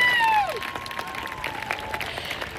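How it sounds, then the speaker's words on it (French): An audience at a Silver Dollar City festival show claps and applauds, a steady soft patter following a short whistle-like tone at the start, moderately distant and without talk. "je pense qu'on peut l'applaudir très fort"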